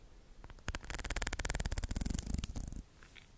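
Claws dragged through a comb as an ASMR trigger, giving a quick rattling buzz like a cat's purr, a dense run of close ticks that swells for a couple of seconds, then stops, alone with no talking.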